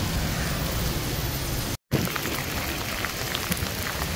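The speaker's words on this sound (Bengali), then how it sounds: "অনেক জোরে বৃষ্টি হচ্ছে" Heavy rain pours steadily across the streets of Tallinn Old Town, a dense, continuous hiss with scattered droplet patter, briefly cutting out for a moment before resuming just as strongly.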